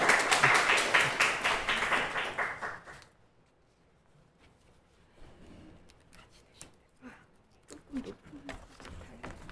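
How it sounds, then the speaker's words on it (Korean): Church members at a training completion ceremony clap in encouragement: a loud, fast burst of many hands for about three seconds, then it stops abruptly, leaving a quiet room with scattered small rustles and taps. "우리 격려의 박수 한 번만 부탁드리겠습니다."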